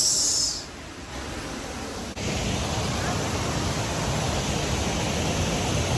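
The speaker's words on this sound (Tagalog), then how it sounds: "Yan yung falls na tinitingnan namin ngayon." Shepherd's Dell waterfall in the Columbia River Gorge roars close by as a steady, dense rush of falling water that stays even and unbroken throughout.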